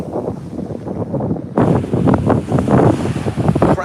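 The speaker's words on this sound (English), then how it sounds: "Some big waves here" Big ocean waves crash close behind on a cold shore, a broad roaring surge that swells suddenly partway through and keeps rumbling with wind buffeting the microphone.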